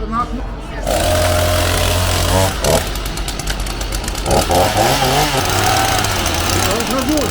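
A STIHL gasoline chainsaw runs during a side-by-side comparison test of several models (MS 172, MS 182, MS 212, MS 382), its engine droning and buzzing steadily nearby while people talk over it.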